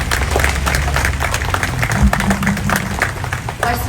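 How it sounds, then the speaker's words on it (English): A crowd at a Veterans Day ceremony in West Hollywood gives a round of applause, dense clapping that stays close and steady across the whole stretch, with faint murmurs mixed in. "If we could give them a round of applause, please."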